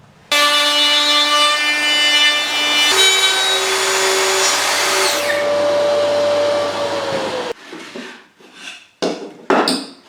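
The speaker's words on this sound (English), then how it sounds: "Using the Festool 1010 is actually very easy when it comes to dovetailing work." Festool OF 1010 router cutting dovetails in a jig with vacuum extraction running: a loud, steady high-pitched whine that holds for several seconds, then stops, leaving brief knocks and handling sounds.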